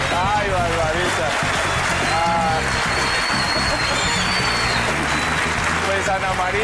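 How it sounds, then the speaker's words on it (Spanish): A studio audience on the Colombian comedy show Sábados Felices applauds, with loud, dense, continuous clapping that lasts throughout, mixed with crowd voices and cheers. "nuevamente un aplauso para Ana María Supiñán"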